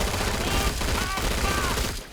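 Dense, continuous weapon fire and blasts from a rocket launcher in the Killing Floor 2 video game, a loud, steady roar of gunfire and explosions that rolls on without a break.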